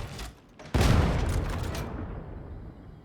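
Ogryn Rumbler grenade launcher firing in Warhammer 40000 Darktide, a sudden heavy boom after a soft lead-in, then a long rumbling tail slowly fading away.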